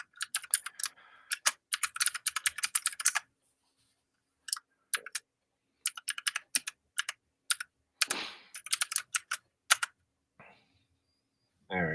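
Bursts of quick keystrokes on a computer keyboard as a login password is typed, clustered runs of close clicks separated by silent pauses, with a few isolated taps.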